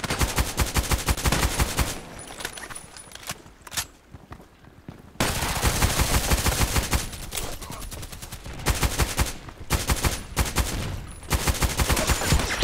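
An FN SCAR-L rifle fires in the shooter game Contract Wars, rapid automatic bursts that are loud and close, broken by brief pauses and a longer quiet gap between volleys.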